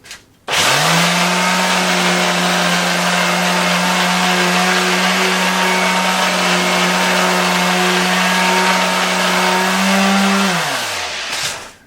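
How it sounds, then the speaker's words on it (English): A power sander with 120-grit sandpaper whirs loudly and steadily for about ten seconds close by on wooden cupboard doors, starting abruptly and then winding down, with no talking. "I'm cleaning them all off first with the old elbow grease and then sanding them."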